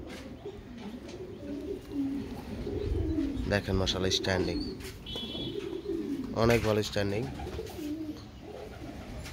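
Pigeons coo softly in the background while someone talks close by, the low rolling calls continuing under his speech.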